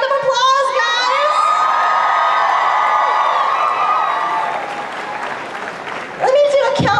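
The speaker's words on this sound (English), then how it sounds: "Give Robbie a big round of applause" Convention panel crowd cheering and applauding a guest, loud shrieks and whoops riding over clapping that swells, eases briefly, then bursts up again near the end.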